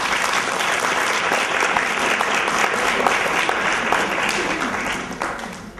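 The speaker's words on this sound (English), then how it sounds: "Let's give her a clap." Sustained, dense audience applause fills the room at a 2015 International Women's Day gathering of women leaders in Ghana, a steady wash of many hands clapping that tapers off at the end.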